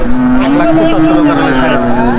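Dairy cattle at a Bangladeshi village livestock market (Hazratpur haat) give a long, loud, close moo that fills the moment, with faint crowd noise beneath.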